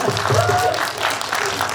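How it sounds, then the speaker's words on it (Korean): Audience applause at a film talk event in a Megabox cinema hall after a screening of "Next Sohee", steady clapping from a seated crowd under someone speaking into a microphone. "박수 부탁드립니다."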